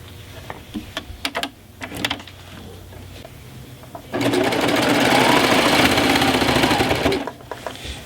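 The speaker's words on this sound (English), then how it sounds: "these sergers are so powerful, they can sew through many layers of fabric and batting without even slowing down" A serger sewing quilt binding through layers of fabric and batting runs in one fast, loud, even whir for about three seconds, framed by quieter clicks and handling noises before and after.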